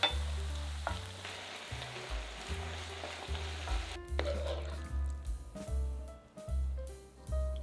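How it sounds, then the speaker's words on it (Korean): Shiitake mushrooms with onion and paprika stir-frying in sauce over medium heat, a soft sizzle and stirring hiss running beneath prominent background music with plucked bass notes. "재료들이 익으면 소스를 넣고 충분히 뺄 수 있게 한 번 더 중불로 볶아주세요."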